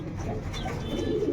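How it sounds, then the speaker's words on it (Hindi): Pigeons coo close by, a few soft rolling coos over a steady low background murmur, with no talking. "और एक कबूतर अपना ये है"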